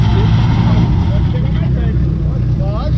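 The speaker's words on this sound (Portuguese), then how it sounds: "Pra quem não conhece, ó, escuta o ronco de um JZ." A Toyota JZ engine in a drift car at a drift event in Itajubá roars loudly and continuously up close, a deep throbbing drone with rising revs, while people talk over it.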